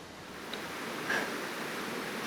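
Till Creek Falls, a waterfall on the Lake Superior shore, gives a steady broad rushing roar of falling water, close and constant with no talk.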